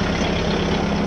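A Kubota tractor drives a rotavator with a dense, steady, loud engine drone and low mechanical rumble throughout, with no pauses or changes.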